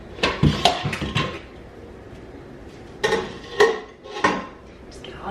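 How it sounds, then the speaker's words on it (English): Dishes, pots and cutlery clatter and clink during kitchen cleanup after cooking, in two loud bursts of bright clanking separated by a quieter pause, close to the microphone with no talking. "Just get all your dishes done at one time."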